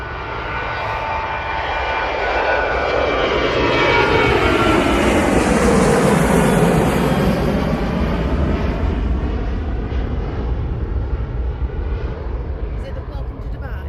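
Jet airliner taking off at Manchester Airport, a loud roaring engine sweep that rises to a peak midway and then fades slightly as it climbs away, with people talking nearby.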